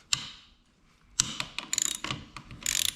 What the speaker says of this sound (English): we're just going to basically pull these bolts off, which are at 10